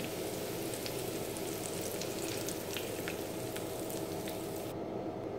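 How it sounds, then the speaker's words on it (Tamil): Curry leaves frying in hot peanut oil, a dense steady sizzle and crackle with small pops, close and continuous, no talking. "ஃபஸ்ட்டு இந்த கருவேப்பிலையை போட்டு பொரித்து எடுத்துக்கலாம்"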